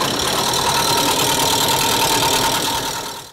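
A car engine idles steadily on an automotive electronic engine-management training simulator in a school workshop, a loud continuous hum that fades slightly at the end.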